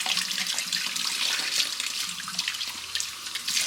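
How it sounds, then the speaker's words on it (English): Appliance filters rinsed under a steadily running tap, a continuous splashing hiss of water over the mesh with no talking. "go ahead and clean my filters. And it's very easy. You just rinse these off."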